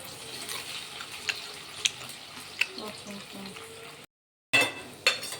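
Gobi (cauliflower) fries in a pan with a faint sizzle and occasional stirring clicks, under quiet talk, before a short gap and a few louder knocks.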